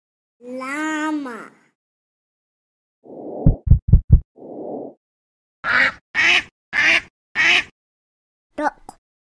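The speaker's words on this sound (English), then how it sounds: "Duck." Cartoon duck sounds from the Peekaboo Barn farm game: a nasal call, then a quick run of low throbbing quacks, followed by a series of five sharp evenly spaced quacks and a faint final blip, each separated by silence.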